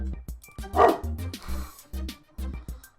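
Dog barking indoors, a run of repeated yips and barks with a loud burst near the start, set against a low steady background hum and faint voice-like sounds.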